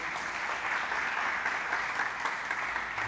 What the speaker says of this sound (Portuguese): Dá um aplauso aí a você.